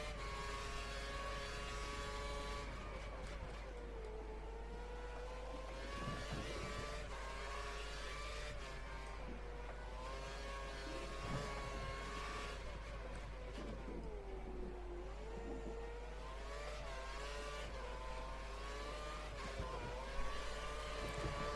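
Formula 1 car racing in the video game F1 2013 at Australia practice: a high-pitched engine whine rises and falls continuously through gear shifts, close and steady, with no talking.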